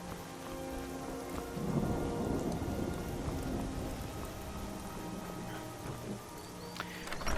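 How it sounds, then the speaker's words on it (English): Steady rain falls in the Skyrim video game, a dense hiss with low rumbles that swell slightly near the middle, continuous and fairly loud with no voices. "Oh good, it rains here and it rains outside."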